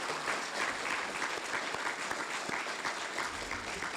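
Warm, steady applause from an audience at a fire department awards ceremony, many hands clapping densely and evenly for several seconds in a hall.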